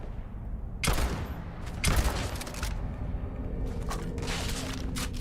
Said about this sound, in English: That was me shooting a pirate.